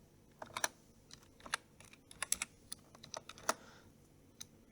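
Irregular, fairly quiet keystrokes clatter on a computer keyboard, close up, in short uneven runs with brief pauses between them.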